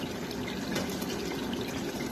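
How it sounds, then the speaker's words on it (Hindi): Water is poured into a pot to boil rice for chicken biryani, a steady gushing splash held for about two seconds at moderate loudness, no talk. "साथ ही हमने दूसरी तरफ पानी चढ़ा दिया चावल उबालने के लिए"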